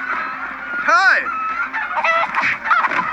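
Honking, clucking fowl cries from a chicken attacking a character in the Minecraft Story Mode video game, one loud rising-falling squawk near the start followed by several shorter calls over a game-ambience background.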